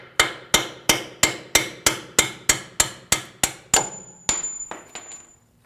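A hammer strikes front strut and spring assembly parts on a 2010-2019 Ford Taurus, about a dozen sharp metallic taps in a steady rhythm, close and loud, followed by a few ringing, slower blows.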